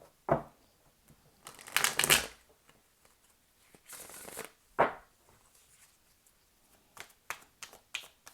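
Tarot cards being shuffled and handled, with short papery riffling bursts spread across the clip, some louder and dense, others faint taps and flicks, and no talking.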